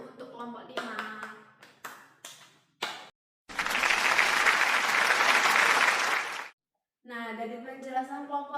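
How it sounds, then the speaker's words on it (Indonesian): Classroom applause for a student group during a micro-teaching practice lesson, a dense burst of clapping lasting about three seconds, with a teacher's voice talking before and after it. "Beri tepuk tangan dulu untuk kelompok 5."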